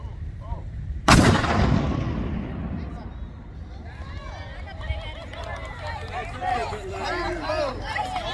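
A single booming cannon shot fires at a Battle of Shiloh Civil War reenactment on a school day, a sharp loud blast that rolls away into a long decaying rumble, followed by crowd chatter and voices talking in the open air.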